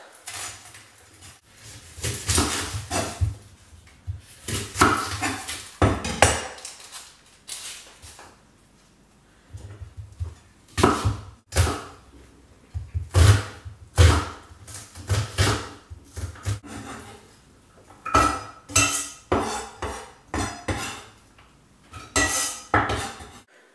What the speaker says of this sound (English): First thing I'm going to do is slice the red onions and put them in a pan with some olive oil to soften